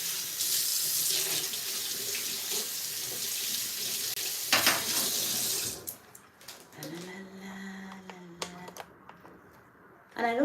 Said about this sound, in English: Behind the camera is my sink, ladies and gentlemen.